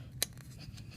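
A single quick scissor snip through tape during a Nerf blaster mod, close and sharp, over faint room background with no talking.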